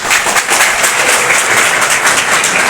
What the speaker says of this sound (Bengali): সবার জন্য হাততালি হোক